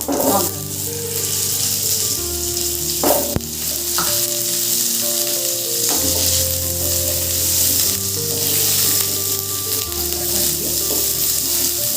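Hog plum (amra) pieces frying in oil with mustard seeds, a loud, close, continuous sizzle stirred now and then, with soft music underneath.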